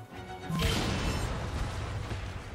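An explosion in the video game Assassin's Creed Syndicate, a sudden crash and boom about half a second in that rolls into a long rumbling tail of debris and low noise.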